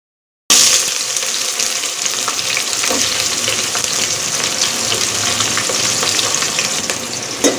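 Onions with cardamom and other whole spices fry in hot oil on a stove, giving a loud, continuous close sizzle that begins abruptly and carries on steadily with no talking.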